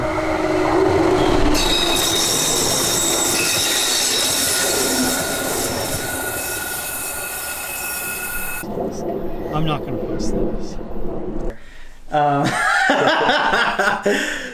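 An RTD commuter train in Denver rumbles past up close, wheels squealing and clattering loudly, with people talking and laughing nearby.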